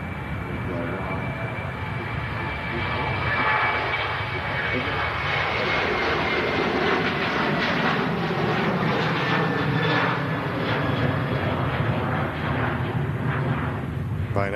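An aircraft departs toward Prague, its jet engines roaring steadily at close range. A voice talks over the noise.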